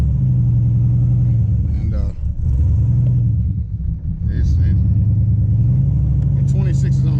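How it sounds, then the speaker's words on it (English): Turbocharged Chevy Caprice on 26-inch wheels with a front tire rubbing as it drives; a low rumbling road and engine drone rises and falls, with someone talking over it. "Got this front tire rubbing."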